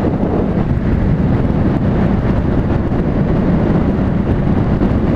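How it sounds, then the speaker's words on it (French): Strong headwind buffets the microphone while riding an Aprilia Shiver 900 motorcycle, a constant, loud roar, a dense rushing rumble with no voices. "Un bon gros vent de face là."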